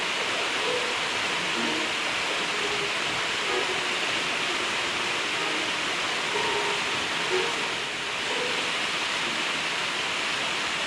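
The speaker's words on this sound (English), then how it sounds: "you are greeted with a stunning view of the pools and the flowing water below" River water rushes steadily into rock pools below a climb, a constant, dense roar of flow with no pauses.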